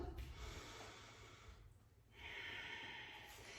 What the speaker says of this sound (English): I'm just trying to incorporate some Ujjayi breathing into the process